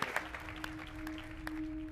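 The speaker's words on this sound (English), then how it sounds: "a huge round of applause for our incredible cast and crew from The Hobbit, the Battle of the Five Armies" Faint, scattered applause from the audience at the London world premiere press conference for The Hobbit: The Battle of the Five Armies, a few sparse claps over a steady electrical hum.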